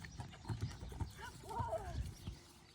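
Hooves of a green, young horse clip-clop steadily at a walk on a track, several close thuds in an even rhythm while people talk quietly in the background.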